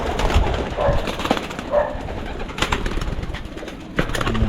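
Pigeons being kept as watched birds give soft, low cooing calls, a few brief phrases at moderate distance over steady background noise, with no talk.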